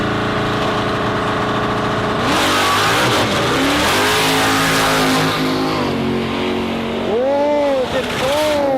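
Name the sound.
radial drag racing car launching down the dragstrip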